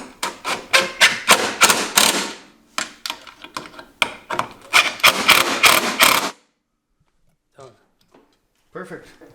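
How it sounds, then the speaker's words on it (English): Ratcheting clicks while bolts are tightened on a 2024 Ski-Doo Summit Gen 5 adventure bumper, loud close bursts of rapid metallic ticking in repeated runs that stop abruptly and give way to a few faint sparse sounds. "I will slowly tighten now just to make sure it's all good."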